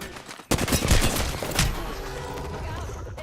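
Rapid gunfire in the video game Apex Legends, watched during an ALGS Split playoff match, breaks out abruptly after a brief lull as a dense burst of shots. Game voice lines are heard alongside it.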